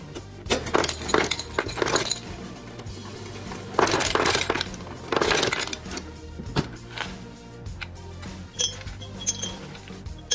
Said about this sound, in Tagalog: kukuha lang ako ng yelo